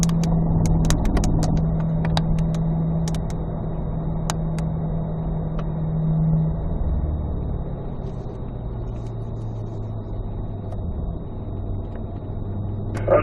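A Corvette Z06 circles a race track, its engine a steady mid-distance drone that swells and eases with throttle, with a brief louder surge near the middle and no talking over it.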